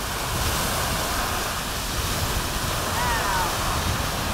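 Beehive Geyser erupting about 100 feet high, some 20 yards away, produces a loud, steady rushing roar of jetting and falling water that stays constant throughout.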